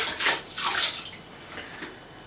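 Sloshing and splashing as a sponge is worked in a bucket of hot water, a few wet swishes near and loud, then quieter drips and trickles, with no voices.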